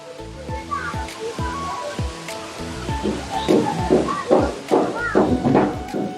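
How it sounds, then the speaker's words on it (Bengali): Continuous splashing water from a fountain at Rangpur zoo in Bangladesh, a steady moderate rush heard nearby under people talking. "এখানে দেখুন ঝর্ণা একটা আছে"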